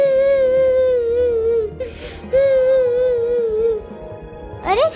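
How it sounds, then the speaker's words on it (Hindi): A plaintive, high whimpering cry drifts through a forest in a storybook sound effect, two long wavering wails separated by a brief breath, with a short rising sob at the end. "अरे स्वामी, ये रोने की आवाज किसकी है?"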